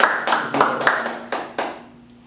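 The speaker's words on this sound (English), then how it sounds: "Give them a round of applause." A handful of slow, sharp hand claps from one or two people in a small room on a podcast, spaced irregularly and decaying, then fading to quiet.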